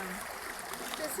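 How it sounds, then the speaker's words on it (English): Paso Robles Creek flowing along an elementary school nature trail, a steady broadband rush of moving water that stays level throughout, with faint voices nearby. "This is the Paso Robles Creek."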